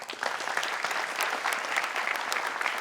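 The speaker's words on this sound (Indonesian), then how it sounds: "tepuk tangan boleh semua." Steady applause from a crowd, many hands clapping continuously at an even level throughout.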